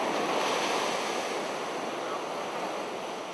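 Calm sea waves wash onto a shore in a continuous, even broadband hiss, with some wind noise and no voices.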